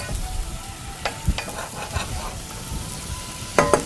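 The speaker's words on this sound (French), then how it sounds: "ça va être juste un petit aller-retour dans le beurre et on enlève tout de suite" Julienned vegetables and spinach sautéed briefly in butter in a pan, a light sizzle with a few utensil clicks and stirring knocks, close by, no voices.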